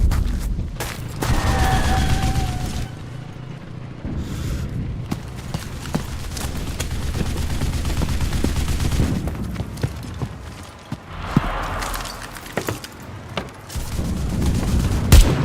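Rapid gunfire and heavy booms in the Enlisted video game during an artillery barrage, with bursts of shots and explosions clustered loud and close, then thinning before more blasts near the end.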